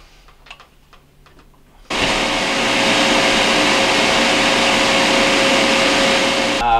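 A vacuum pump switches on abruptly on a Whirlpool refrigerator system under compressor repair, then runs with a loud, steady whirring drone, after a few quiet ticks and brief voice sounds.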